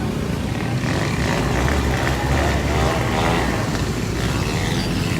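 A truck creeps slowly along a street in Liyaquatabad, Karachi, after rain, its engine giving a steady, heavy, close rumble with voices faintly mixed in.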